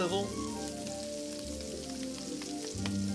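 Japanese hambagu patties, a Salisbury-style steak, sizzle in a pan, giving a faint, steady crackling fry with light pops throughout.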